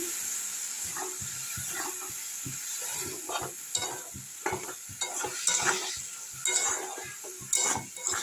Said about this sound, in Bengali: এবার অল্প একটু জল দিয়ে আমি কষিয়ে নেবো আরও নিচের দিকে ধরে যাবে